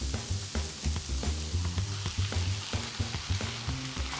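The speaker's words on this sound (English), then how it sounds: "Now we're gonna add some tinned tomatoes." Tinned tomatoes frying with garlic and onions for a spicy Asian shakshuka, a close bubbling sizzle with rapid, repeated stirring knocks against the pan.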